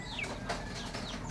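Chickens cluck and chirp in short bursts near a yard, a few calls rising over steady low background noise, with no talk.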